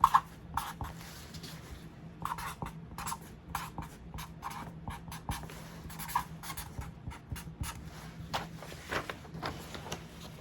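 A pen moves by hand across paper in close, quiet, scratchy strokes, short and irregular with brief pauses between them.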